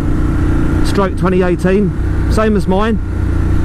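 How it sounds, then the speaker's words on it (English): A 2017-2018 Ducati Monster 1200S motorcycle rides behind on the road, its engine a steady low drone beneath close talking. "I've got Wags behind on his 1200S Monster"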